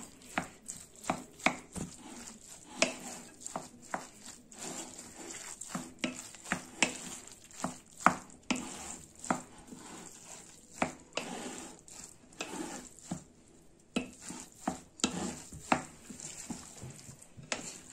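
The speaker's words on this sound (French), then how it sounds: "je mélangerai tout, le riz et la viande hachée, coriandre, les épices" A spoon works through a mix of rice, minced meat, coriander and spices for cabbage stuffing, giving repeated sharp clacks and scrapes against the bowl in an uneven rhythm, close and alone.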